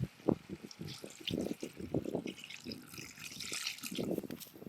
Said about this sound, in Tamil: தண்ணியும் கொஞ்சம் சேர்ப்போம்.